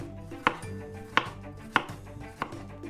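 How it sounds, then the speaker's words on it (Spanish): A knife slices peeled potatoes into rounds about half a centimetre thick, making four crisp cuts against a board at a steady, unhurried pace in a quiet kitchen. "Y una vez peladas las vamos a partir en rodajas como de medio centímetro aproximadamente de grosor."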